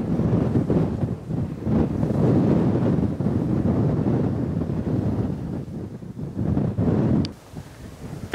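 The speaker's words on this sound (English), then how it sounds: "Bit windy." Strong wind on a hiking trail on Gran Canaria, buffeting the microphone in a continuous roaring rush that swells and eases, dropping briefly before gusting again at the end.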